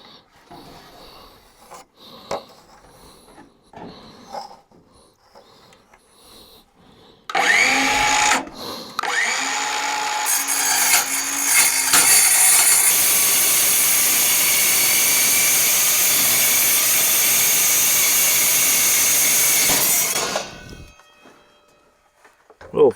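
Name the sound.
cordless reciprocating saw cutting sheet metal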